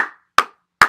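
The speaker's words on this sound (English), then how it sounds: "what's that clapping sound, yo?" Three sharp, loud, isolated claps sound close by, evenly spaced with short decays and silence between them.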